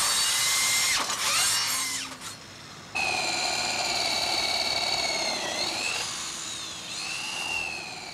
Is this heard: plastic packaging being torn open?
no